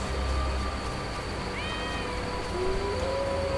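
A cat meows in The Witcher video game, a short rising-and-falling call over a steady ambient game background with low hum, no talking.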